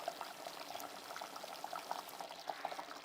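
A Godavari-style fish curry bubbles steadily on the stove as spice powders are added, a soft continuous gurgle with small pops, close and fairly quiet.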